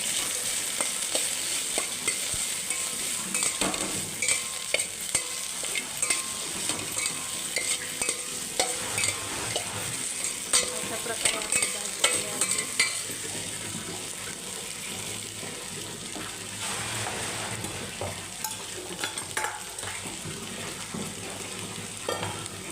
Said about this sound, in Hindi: लाल मिर्च पाउडर परत मिक्स करना है